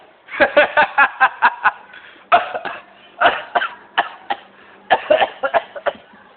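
Repeated fits of coughing, several bursts of rapid hacking coughs with short pauses between them, loud and close.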